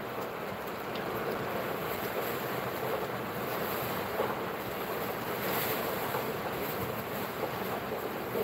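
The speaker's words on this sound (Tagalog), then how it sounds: "Alam, malakas yung hangin," Strong wind blows outdoors during a storm, a constant loud rush buffeting the microphone with gusty swells throughout, with no voices.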